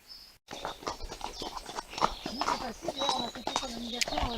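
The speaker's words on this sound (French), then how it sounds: "Donc les chevaux, ils sont prêts, ils sont scellés et tout" Saddled horses at an agricultural fair walk with irregular clip-clopping hooves on hard ground, close by, while voices talk and birds chirp in the background.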